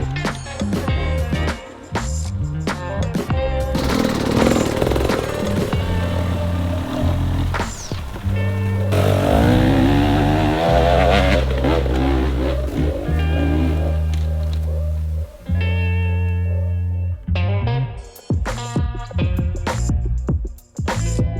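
An enduro dirt bike engine revs hard while climbing a steep hill, loud and close throughout, with rising and falling throttle bursts and a few sharp knocks toward the end.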